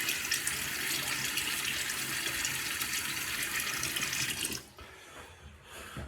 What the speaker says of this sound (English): Let me get my face wet.